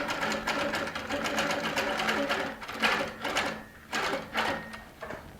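A Baby Lock sewing machine stitching steadily at close range, a fast rhythmic mechanical chatter that rises and eases with short pauses as the needle travels along a seam.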